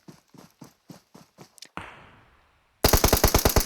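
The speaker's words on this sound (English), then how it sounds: "I heard the shot and then I heard the stop of gunshots from this side." Gunfire in the battle royale game PUBG Mobile: evenly spaced single shots, a louder blast that fades into a short silence, then a loud, rapid automatic burst close by.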